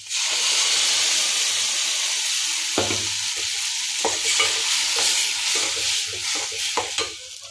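Ground tomato tipped onto sautéed onions for a spicy tamarind curry crackles and sizzles loudly in the pan, with repeated scraping stirs cutting through a steady hiss.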